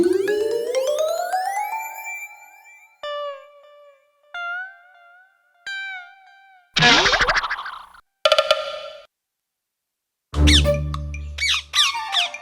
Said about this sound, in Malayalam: ചെമ്പന്റെ സഹായത്താൽ രക്ഷപ്പെട്ട തത്തകൾ ചെമ്പന്റെയും അമ്പുവിന്റെയും പിന്നാലെ